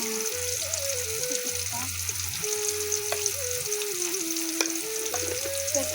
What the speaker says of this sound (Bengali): এতে পেঁয়াজ, রসুন, লঙ্কা, নুন দিয়ে এটা কষাচ্ছ, তাই তো?